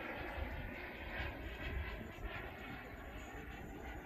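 A Freewing T-45 turbine RC model jet makes a flyby, its steady broadband roar holding loud and close for several seconds with a slight swell as it passes, no talking over it.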